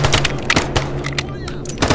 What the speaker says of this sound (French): Vous entendez le bruit quand je lui tire dessus?